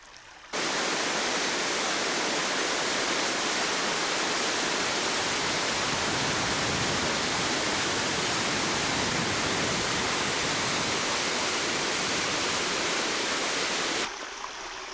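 Water in a rainforest creek rushes in a continuous, loud, even roar that stays steady throughout, then cuts off just before the end.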